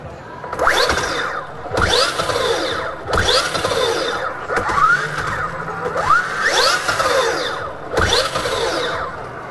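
A Brammo electric motorcycle motor revs up on torque in six repeated bursts, each a rising whine that cuts off sharply, loud and close with short pauses between.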